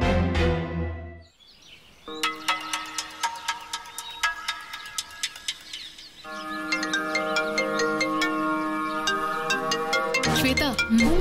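A phone ringtone signals an incoming call with a bright, repeating melodic tune that plays loudly after a brief pause, continuing for several seconds with a short chime at the start.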